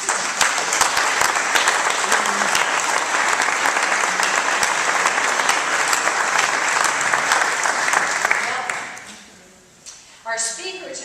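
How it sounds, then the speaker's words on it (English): Big round of applause from an audience at an evening seminary lecture, loud and sustained with dense clapping for about nine seconds before fading out, followed by a brief softer burst. "ask you to give them a big round of applause"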